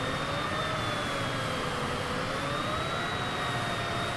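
A Citation CJ4 business jet in Microsoft Flight Simulator 2020 spools up as the throttle advances, a loud, steady turbine roar and whine holding throughout with a slowly rising tone.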